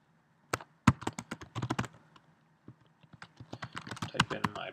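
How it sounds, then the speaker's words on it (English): Keys clack on a computer keyboard as an SSH login command is typed, a quick irregular burst of sharp taps that pause briefly midway and then resume, close and clear with no talking. "So I type SSH, my username, at orcanis.westgrid.ca."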